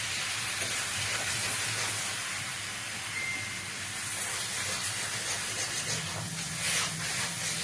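Mutton sautéing in a pan with little oil, stirred over heat for a hostel-style curry, gives a steady, continuous sizzle and hiss that stays even throughout, with no talking.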